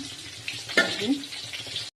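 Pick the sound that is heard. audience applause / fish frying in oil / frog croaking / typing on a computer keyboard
fish frying in oil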